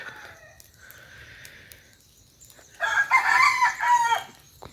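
After faint background clucking, a rooster crows loudly and close by, one long drawn-out crow lasting nearly two seconds.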